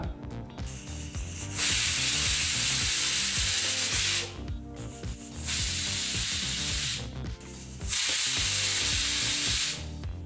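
Pressure cooker whistling three times while cooking a gravy, each whistle a loud sustained hissing blast of steam lasting a couple of seconds, separated by short quieter gaps.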